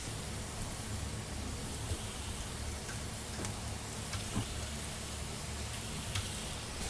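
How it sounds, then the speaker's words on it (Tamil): Slit boiled eggs sauté with green chili and curry leaves in a pan for egg salna: a faint, steady hiss of frying with a few scattered small ticks and pops. "இது வந்து 1 நிமிஷம் வரைக்கும் நல்லா அப்படியே வதக்கிக்கலாம்."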